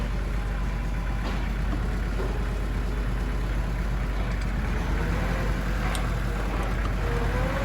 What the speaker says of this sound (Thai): เครื่องยนต์สตาร์ทติดง่ายนะครับเครื่องปกติ